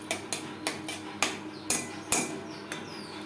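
A utensil stirs and scrapes butter in a pan on a gas stove while ghee is made, giving sharp metallic taps and scrapes in an irregular rhythm, close and moderately quiet, with no voices.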